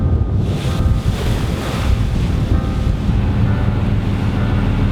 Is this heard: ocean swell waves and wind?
yes